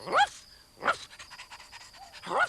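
A cartoon dog pants in three quick breathy bursts with short pauses between, quiet and close, over a faint steady tone.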